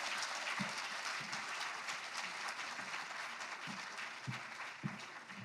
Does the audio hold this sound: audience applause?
yes